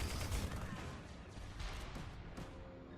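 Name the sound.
chain gun firing in Tribes: Ascend video game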